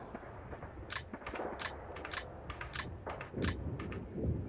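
Gunfire from the World War II strategy game SP:WaW: a rapid series of sharp, crackling shots in irregular bursts, with a few heavier low thumps near the end, all without talk.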